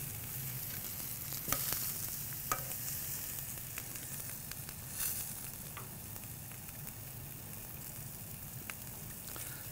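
Wagyu skirt steak sizzles on an offset smoker as it is turned, a dense crackling hiss with a few sharp pops and scrapes, close and steady, with no talking.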